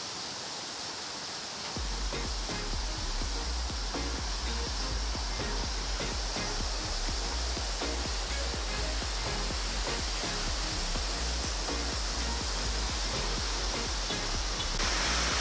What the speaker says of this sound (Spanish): Este es el río más importante de Vilcabamba.